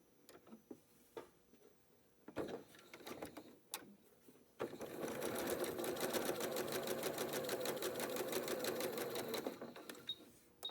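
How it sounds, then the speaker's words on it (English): A sewing machine stitches a quilt block corner to corner for a stem and leaf quilt block unit, running steadily for several seconds after a few brief handling clicks, close and loud with no talking. "we'll sew from corner to corner on the opposite side"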